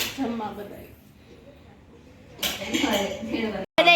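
Dishes and plates clink now and then as people serve themselves a home meal of rice, roti, dal, gulab jamun and buttermilk at a village gathering, light and intermittent under steady nearby conversation.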